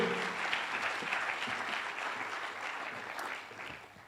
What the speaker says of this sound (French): On applaudit jusqu'à ce qu'il arrive ici